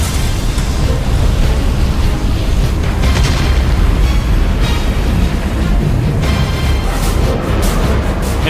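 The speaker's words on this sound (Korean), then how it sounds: "세 개의 거대한 폭발이 하늘에 불꽃을 일으켰다." Missile explosions in the sky during a Desert Storm air battle, heard as dense, continuous booming rumble with repeated bursts, loud and unbroken for several seconds.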